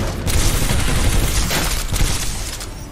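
Heavy, continuous gunfire from the shooter game Titanfall 2, a dense barrage of loud blasts and booms running unbroken for a few seconds with no talking.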